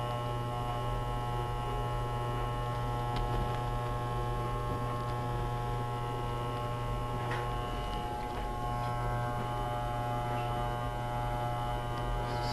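Electric hair clippers cutting hair give off a low, steady, faint electric buzz that holds unbroken throughout, with a few tiny ticks and no speech.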